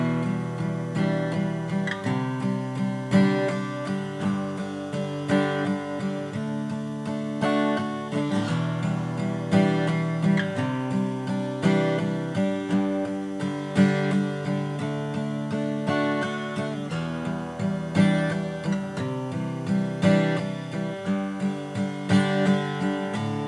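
Acoustic guitar strums the chorus chords of a pop song in a steady, even rhythm, ringing chords flowing continuously at moderate volume with no voices.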